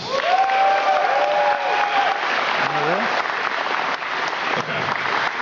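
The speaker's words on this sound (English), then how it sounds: "is everyone doing today by a round of applause?" A presentation audience gives a round of applause, a steady wash of clapping and crowd noise that runs through the whole stretch, with a voice and tonal sounds heard over it.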